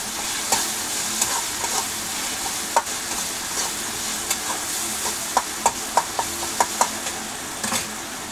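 Spatula stirring a spice mixture in a pan for moth bean bhaji, with soft frying sizzle and a series of sharp scraping clicks in an uneven rhythm, close and moderately loud, no voices.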